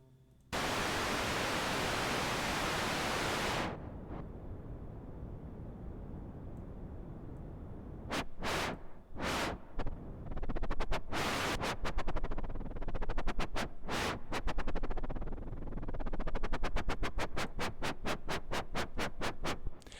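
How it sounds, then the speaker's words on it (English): IK Multimedia UNO Synth noise oscillator playing alone: a steady loud hiss for a few seconds, then chopped into rhythmic bursts and stutters as a wah filter sweeps the tone, speeding into rapid repeated pulses at the end. "I'll show you the wah really quick. Let's go back to our noise oscillator."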